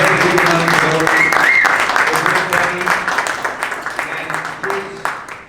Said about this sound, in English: We need to greet him with a round of applause as well.